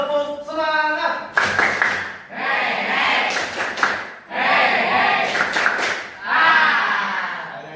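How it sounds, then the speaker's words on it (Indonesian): A school class performs a rhythmic clapping chant with loud shouted group voices in repeated bursts, sharp synchronized claps punctuating each phrase of the chant. "Yo semuanya, tepuk semangat"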